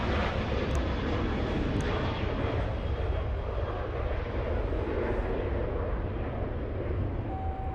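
A Southwest Boeing 737 departs LAX bound for Las Vegas, its engines a loud, steady broadband roar that holds evenly throughout with no talking.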